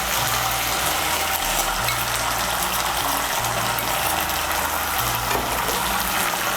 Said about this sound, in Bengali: আদা বাটা, কাঁচা লঙ্কা বাটা, টমেটো বাটাটাকে একটু তেলের সঙ্গে ভেজে নেব।